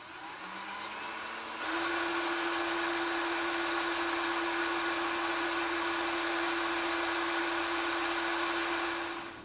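A drill starts up and holds a steady high whine while boring through glass, loud and continuous with a hissing grind, no voices.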